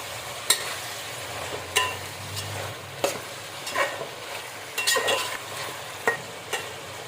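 Ridge gourd peels cook in oil with turmeric in a pan, a soft steady sizzle under repeated stirring that brings close scraping clicks at irregular intervals, with no voices.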